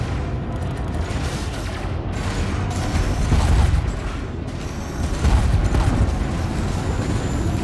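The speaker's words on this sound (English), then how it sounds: "You can just hear the cannon shells just striking his hull." A steady barrage of rapid impacts and booms, dense and continuous, as cannon shells strike a ship's hull in Elite: Dangerous, with brief louder surges.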